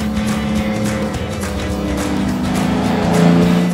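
A classic car drives a road stage of the Gstaad Classic rally at full throttle. The engine drones loudly and close, steady and rising slightly in pitch as it accelerates, with no voices.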